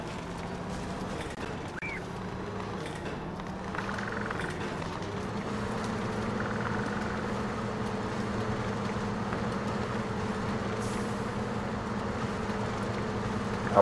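An off-road truck drives in the video game MudRunner, a steady low engine drone that holds evenly for the whole stretch, with a faint rise partway through.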